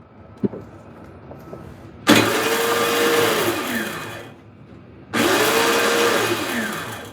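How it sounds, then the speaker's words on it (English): A Toro snowblower's electric starter whirs up in two separate bursts of about three seconds each, spinning freely with a steady high whine because the Bendix gear fails to engage, then winding down between tries. "Sounds like the Bendix isn't catching"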